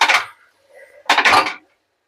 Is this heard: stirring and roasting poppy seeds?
yes